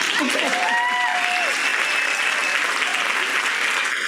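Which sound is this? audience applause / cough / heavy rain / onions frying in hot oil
audience applause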